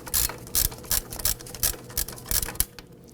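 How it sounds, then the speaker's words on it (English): A ratchet fitted with a 15mm socket loosens a brake caliper bolt on a 2001-2009 Volvo S60, giving about eight close, loud bursts of clicking in a steady back-and-forth rhythm, with no one talking. "So we're gonna use our 15mm socket on our ratchet here."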